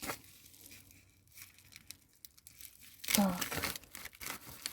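Small AliExpress parcel being torn open up close, a burst of crinkling and ripping plastic after quiet handling, with a short spoken word before it.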